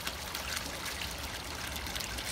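Water from a 2,000 gallon-per-hour pump running into a garden koi pond makes a steady broadband trickle and splash, continuous and fairly close, with no voices.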